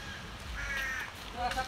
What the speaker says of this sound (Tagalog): Yung uwak nakakawala.